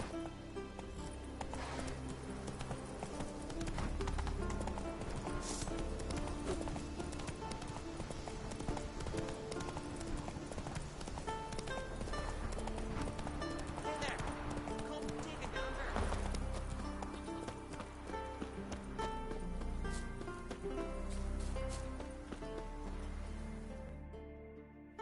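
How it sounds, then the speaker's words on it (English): Hooves clip-clop steadily as a horse is ridden in a video game, over a continuous bed of in-game music and ambience, with a voice talking throughout. "Whoa there, Roach."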